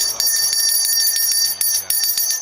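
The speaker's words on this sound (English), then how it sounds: "That's the big bell, ladies and gentlemen." Wrestling ring bell in the WWE 2K23 video game, rung in a rapid series of sharp metallic clangs with bright sustained ringing overtones, steady and loud throughout.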